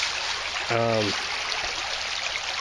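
Water from a stream on a hiking trail flows with a steady, fairly loud hiss and trickle throughout, and a short harmonic tone cuts in briefly near the start.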